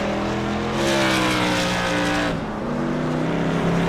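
Modified touring cars racing at New Smyrna in a sim racing game, a loud continuous engine drone with steady harmonic whine and a slight shift midway, no talk over it.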